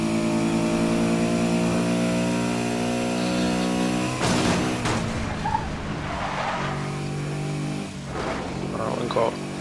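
A Porsche 918 Spyder Concept races in Need For Speed Most Wanted, its engine holding a steady high whine that breaks into revving, skidding and impacts partway through, with someone talking over it.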